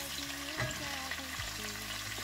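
Chopped onion fries in hot oil with a soft, steady sizzle, heard faintly and only briefly.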